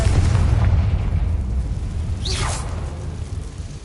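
In Hogwarts Legacy, a Confringo fire spell goes off as a low rumbling boom with a whooshing streak rising then falling, heard alone over steady dull background noise.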